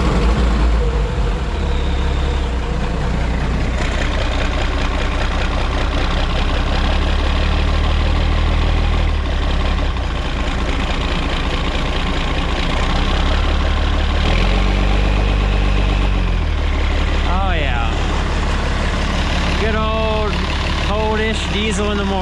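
The diesel engine of a forage harvester cold-starts on a farm and settles into a loud, steady, rumbling idle for over twenty seconds, close by, with voices heard over it partway through.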